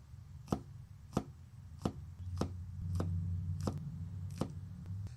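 A knife slices vegetables on a cutting board for a smoked pork shoulder, with about eight crisp, evenly spaced chops at a fairly quiet level over a faint low hum.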